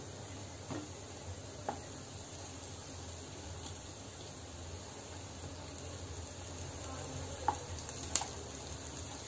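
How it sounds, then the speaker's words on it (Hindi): Potato pieces fry in a pan with a soft, continuous sizzle, joined by a few faint scattered clicks and pops near the end. "जब ये सारे पीसेस एक तरफ से फ्राई हो जाएंगे तब हम दूसरी तरफ से फ्राई करेंगे"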